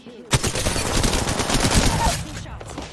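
Gunshots in the Apex Legends video game ring out in a fast, loud burst of repeated shots at close range, fading out near the end.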